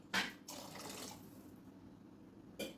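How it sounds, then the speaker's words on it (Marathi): Lukewarm water poured into a pot of Sindhi kadhi, heard as short close splashing bursts followed by a faint trickle, with a final small splash; quiet overall and no talk. "थोडं कोमट पाणी घालूया."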